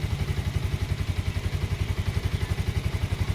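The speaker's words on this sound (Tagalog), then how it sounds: "Ganda na tunog ng motor mo pa rin, oh." A motorcycle engine idles close by with a steady, rapid pulsing throb, even and unbroken throughout.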